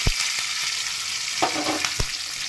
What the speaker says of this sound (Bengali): এবার আমি ফোড়নটা ভেজে নেব ভালো করে